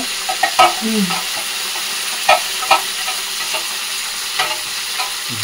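Ivy gourd and egg frying in a pan, with a steady sizzle broken by repeated scraping and stirring clicks of a spatula against the pan, close and alone.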